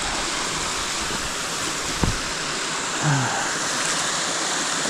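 Creek water on a hiking trail, a steady broad rush of flowing water filling the whole stretch, close and even, with a brief knock and a faint low murmur from someone partway through.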